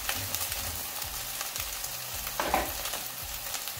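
A beef burger patty fries in a pan with a soft, even sizzle and crackle, fairly quiet and steady throughout, with no voices over it.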